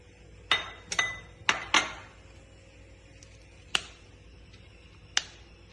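Green chutney ingredients, mint, coriander leaves, green chilli, garlic, ginger and lemon, are dropped into a mixer jar, giving several sharp clinks and taps in a cluster, then two more spaced knocks, close by with no talking.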